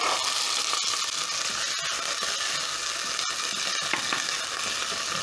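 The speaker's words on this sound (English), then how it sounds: "My garlic and onions are starting to brown, so I'm going to add in my raw mbaazi." Raw pigeon peas hit a pan of browning garlic and onions for a curry. Loud, dense frying sizzle fills the whole stretch, with a few faint scrapes and clicks.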